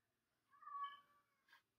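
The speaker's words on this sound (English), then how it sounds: "my cat crying again if you guys hear" A house cat gives a single faint, drawn-out meow, a thin crying tone in a quiet room, followed by a brief soft squeak.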